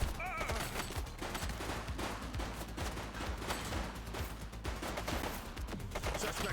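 A suspect's gunfire in the police video game The Precinct: a dense, continuous fusillade of loud, overlapping shots that rattles on without pause.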